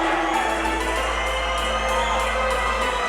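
A dense arena crowd in Edmonton cheers and roars steadily as fighter Ryan Ford makes his way to the ring, a continuous loud wash of voices and whoops throughout.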